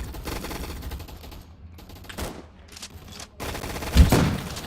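Sniper rifle gunfire in a video game gun fight arena, a few sharp shots and bursts ringing out over a busy game soundscape, with one louder crack near the end.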